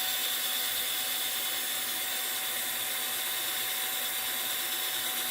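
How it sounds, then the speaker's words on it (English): A drill boring a hole into a 3D printed Super Mario statue gives a steady, continuous whirring whine that holds at an even level throughout, with no talking. "So I'm just gonna drill a hole between them and see if that'll work."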